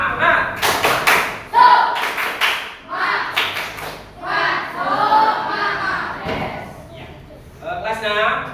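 A class of sixth-grade pupils does a rhythmic spirit clap, sharp bursts of clapping in quick patterned groups. Chanting voices and shouts run between the claps.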